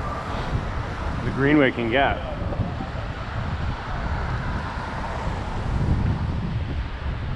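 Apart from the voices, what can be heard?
strong wind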